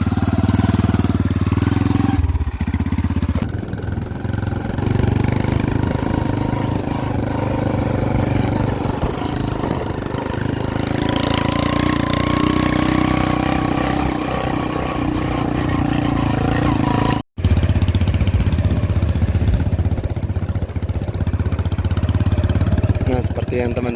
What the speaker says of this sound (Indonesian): kami akan menggunakan motor ini